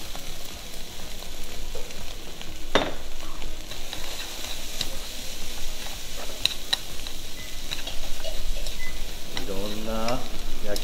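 Vegetables and noodles stir-fried in a wok for Shanghai-style yakisoba, a steady close sizzle with scraping and tossing clatter throughout, a sharp utensil knock partway through and a brief rising whine near the end.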